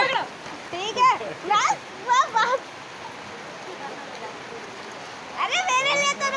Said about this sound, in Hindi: यहाँ बहुत तेज बारिश हो रही है अब,